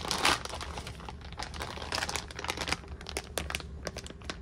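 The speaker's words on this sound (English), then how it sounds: "I'm gonna do the easy thing and just break open this seam and rip this guy out" Plastic crinkles and tears close up as the seam of an all-in-one mushroom grow bag is ripped open, a stretch of crackling and rustling that includes sharp ripping bursts.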